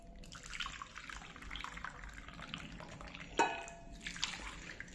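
Three cups of hot water are poured into a bowl while a tamarind and date chutney is being made, giving a soft, steady, fairly quiet splashing with a brief clink near the end.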